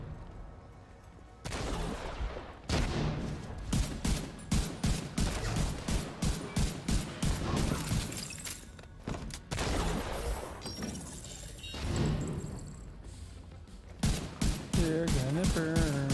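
Rapid gunfire bursts and grenade blasts in The Division 2 shooter game, dense, loud volleys continuing almost throughout with short lulls, and a player's voice occasionally mixed in.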